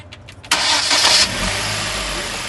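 A turbocharged petrol engine in a Hyundai car cranks and fires up with a sudden loud catch, then settles into a steady idle that continues to the end, heard close up in a service workshop.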